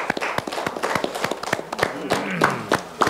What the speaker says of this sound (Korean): 박수하십시오.